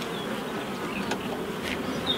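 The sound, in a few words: honey bees in a beehive super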